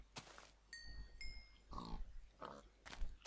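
Pigs in the Minecraft video game grunt and oink in a few short bursts, fairly close, with faint game tones and background noise between them.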